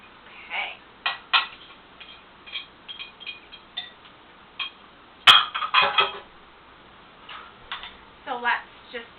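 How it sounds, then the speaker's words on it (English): Ingredients being mixed in a bowl, with irregular clinks and scrapes of a utensil against the bowl in short bursts, close and fairly quiet, one sharper knock partway through. "So let's just incorporate that, mix it into our bowl"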